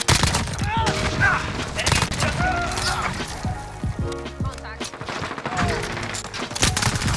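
Rapid Uzi submachine gun bursts from Call of Duty: Modern Warfare, loud and repeated across the whole stretch in dense volleys over game ambience, with a voice talking over the shooting.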